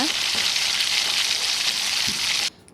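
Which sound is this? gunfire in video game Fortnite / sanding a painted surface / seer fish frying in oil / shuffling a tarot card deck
seer fish frying in oil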